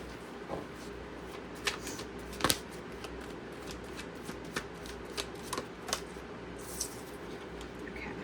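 Someone shuffles a deck of astrology oracle cards close by, producing a run of crisp riffling flutters and sharp card snaps at irregular intervals over a quiet background.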